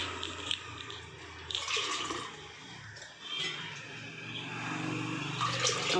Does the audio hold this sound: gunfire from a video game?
no